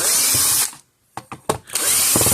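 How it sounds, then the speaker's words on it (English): Power drill backing screws out of a Patriot PMX600 fence energizer casing: a loud whirring burst, a brief pause with a few small clicks and knocks, then the drill spins up again. "But we're going to take these screws out."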